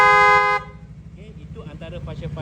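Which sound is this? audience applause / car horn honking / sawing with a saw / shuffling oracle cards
car horn honking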